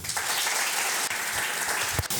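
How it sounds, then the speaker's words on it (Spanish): Loud, sustained applause from a conference audience welcoming a speaker, a thick even wash of clapping filling the hall. "Lo recibimos con un fuerte aplauso."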